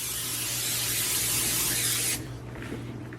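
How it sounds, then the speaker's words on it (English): A loud, continuous hiss of aerosol spray oil onto a pan for about two seconds, then it cuts off, leaving quieter faint rustling. "I'm going to take a pan with spray, give it a layer of spray oil,"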